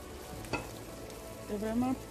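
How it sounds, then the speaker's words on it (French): Meat dropped into hot red palm oil while cooking a leaf sauce (sauce feuille), giving a soft, steady frying sizzle with a brief stir clatter near the middle and a louder burst of hissing toward the end. "ici, ce que je vais faire, je vais rajouter mes viandes"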